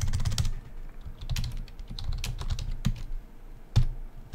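Quick, irregular bursts of keystrokes on a computer keyboard, close and fairly quiet, pausing briefly between clusters of clicks.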